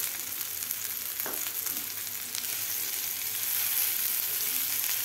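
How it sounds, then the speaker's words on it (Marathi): Boiled brinjal pieces sauté gently in oil, a steady close sizzle with a few light stirring touches and faint clinks, without speech. "थोडेसे आपल्याला ह्या तेलामध्ये वांगे परतून घ्यायचे आहेत"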